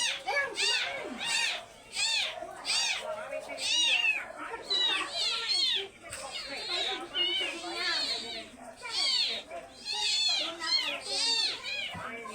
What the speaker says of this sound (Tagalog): 3 kuting na maliit.